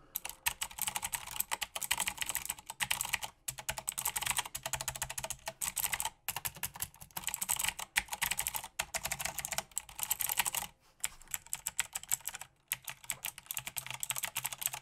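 Continuous typing on an RGB mechanical gaming keyboard, close and crisp, with rapid clacky keystrokes in bursts broken by brief pauses, no voices.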